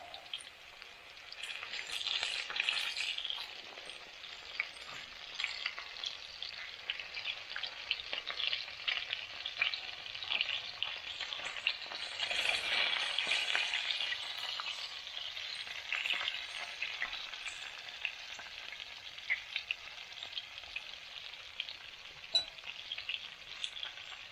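Chicken fries in sunflower oil with a steady, dense sizzle and crackle of bubbling fat. It stays close and loud throughout, with no voices.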